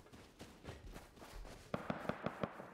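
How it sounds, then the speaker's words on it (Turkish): Gunfire in the survival video game Rust: scattered light taps give way to a quick string of about six evenly spaced, distant-sounding shots. "Silah sesleri"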